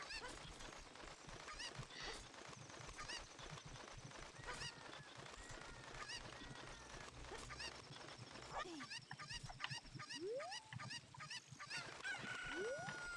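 Chickens in the video game Ocarina of Time give loud, frantic squawks and honking cries in rapid succession, mixed with game effects and steady background noise.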